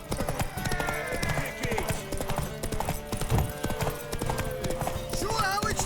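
Horse hooves clip-clop in a steady galloping rhythm in The Witcher 3, with game music and voices talking over them throughout.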